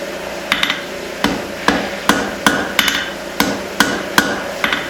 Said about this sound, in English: Now I'm going to start shaping my hammer faces a little bit.